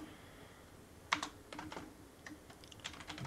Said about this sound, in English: I'm gonna start typing in